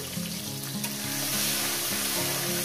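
Tomatoes and green chilies fry in a hot pan with a loud, continuous sizzle and crackle, while a low hum from the stove or a fan runs steadily beneath.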